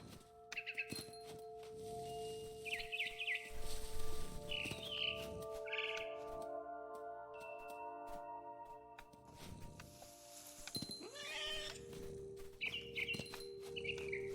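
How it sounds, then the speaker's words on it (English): A barn swallow in the video game What Remains of Edith Finch gives short repeated chirps with bursts of wing flapping, intermittent and fairly quiet against a soft game ambience with sustained tonal background sounds. "It was a barn swallow going back to her nest."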